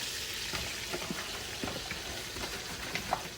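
Oil and butter heat in a pan for a roux, making a faint, even, continuous sizzle with tiny scattered pops throughout.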